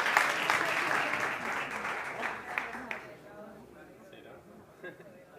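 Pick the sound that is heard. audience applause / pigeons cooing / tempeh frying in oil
audience applause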